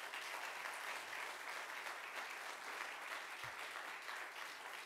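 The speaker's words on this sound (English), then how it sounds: "please join me in another round of applause for this council" An audience at a city council state of the city address in Peekskill applauds with a steady, even wash of clapping, heard very faint and distant throughout.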